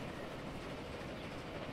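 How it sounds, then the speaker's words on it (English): A freight train rolls past beneath a bridge in the Transport Fever 2 railway game, a soft continuous rumbling wheel noise at low volume throughout, with no talk. "Oh look, there's a freight train going by underneath."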